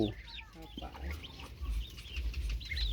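Chickens cluck with a rooster among them at a Thai backyard poultry pen, short clucks and calls coming close and loud over low rumbling background noise, with no talk.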